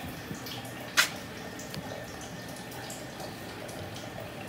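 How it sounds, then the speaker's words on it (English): Tap water runs steadily into a kitchen sink during dishwashing, a continuous soft splashing with one brief clatter near the start. "Just in the sink Well, I'm washing dishes."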